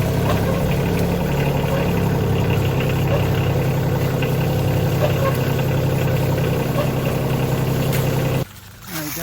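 A tractor engine idles outdoors on a deer hunt, a loud steady mid-pitched rumble with a faint knocking pulse that runs unbroken, then cuts off abruptly near the end as the sound shifts.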